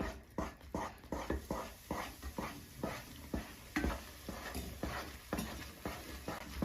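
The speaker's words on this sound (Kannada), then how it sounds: "ಮತ್ತೀಗ ಈ ಮಿಶ್ರಣನ ನಾನು ಚೆನ್ನಾಗಿ ಮಿಕ್ಸ್ ಮಾಡ್ತಾ ಇದ್ದೀನಿ." Mysore pak mixture being stirred with oil in a pan, a steady series of close scraping strokes with a soft sizzle running underneath.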